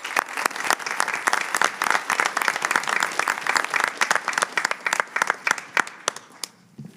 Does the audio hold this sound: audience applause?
yes